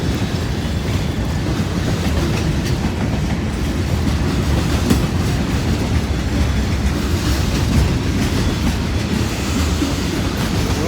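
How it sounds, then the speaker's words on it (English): A long freight train that includes an old Southern boxcar rolls past close by, with loud continuous rumbling and rhythmic clickety-clack of wheels on rail joints and no voices. "Well, we got a long train here."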